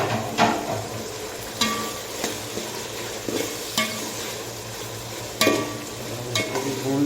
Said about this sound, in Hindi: अभी हम इसमें लहसुन और अदरक डाल देते हैं।